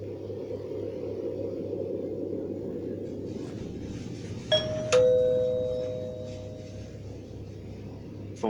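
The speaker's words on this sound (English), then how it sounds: "Didn't we have that bloody annoying doorbell replaced yesterday?" Over a low steady hum, a video game doorbell chimes a two-tone ding-dong partway through, the second tone ringing out and slowly fading.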